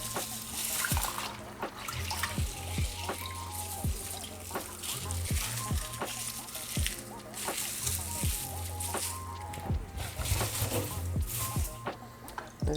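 Mint leaves being rinsed and lifted from a container of water: steady moderate trickling and sloshing with intermittent splashes, over a low background hum.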